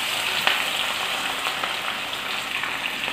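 Crushed ginger and garlic frying in hot oil give a close, even crackling sizzle with a few sharper pops, continuous and with no speech.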